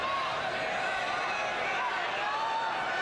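Steady, dense roar of a football stadium crowd at a Lingerie Football League game between the BC Angels and Saskatoon Sirens, a continuous wash of voices and noise with no clear peaks, filling the whole moment.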